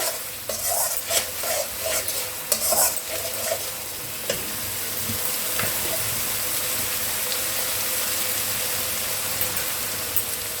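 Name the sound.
frying ingredients in a pan, stirring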